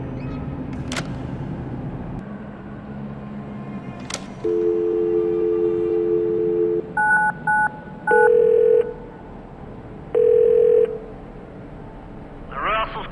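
Telephone keypad dialing tones in the video game The Darkness, with short paired beeps and longer steady tones in separate bursts over a low background hum and faint voice.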